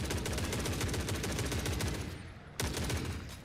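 Rapid automatic gunfire from The Forever Winter rattles in dense, loud bursts, then cuts out briefly before another burst kicks in, with no voices over it.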